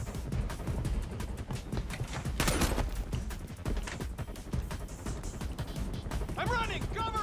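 Gunfire in the shooter game Far Cry 6: dense, rapid shots and impacts over constant action noise, with a player talking over the fighting.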